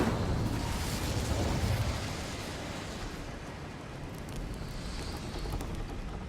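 The Incendio fire spell is cast in Hogwarts Legacy, bursting into a loud whooshing roar of flame that eases into a softer, lingering rumble, with no voices over it.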